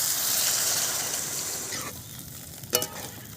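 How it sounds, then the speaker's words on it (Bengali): Water goes into a pan of frying potatoes: a bright, loud sizzle swells, then abruptly drops to a low bubbling hiss, followed by a single sharp metallic clank. "আলু ভাজা হয়ে গেছে, জলটা দিয়ে দিচ্ছি।"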